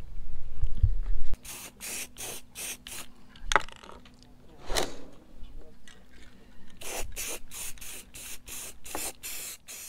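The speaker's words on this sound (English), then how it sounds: "put some cardboard down and spray painted that stripe" Repeated short bursts of a spray can hissing out paint to mark a stripe, several quick sprays in a row with brief pauses and some scraping between.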